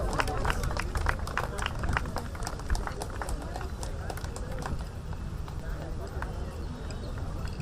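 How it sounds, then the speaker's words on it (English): An indoor audience at a league event claps in a fast, steady patter that runs continuously throughout, with a voice talking over it. "Keep the claps going, everybody"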